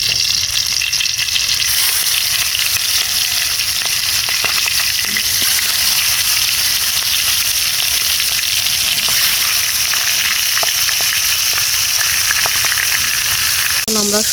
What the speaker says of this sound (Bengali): এখন আমরা দিয়ে দিচ্ছি তেল। এখন আমরা মাছ ভেজে নেব।